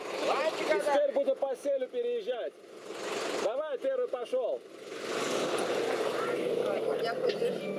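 A car drives across a mountain river through a mudflow in Turkmenistan, engine rumble and rushing water swelling in the background while people talk over much of it.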